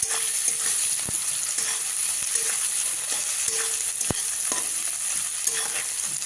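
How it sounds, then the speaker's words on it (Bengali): Onion and crushed garlic cloves fry lightly in a pan for a raw pumpkin curry, a steady close sizzle with occasional scrapes and clinks of a stirring spatula, no voices. "পেঁয়াজ আর রসুনের কোয়া থেতো একটু ভাজা হবে, হালকা একটু ভাজা করব।"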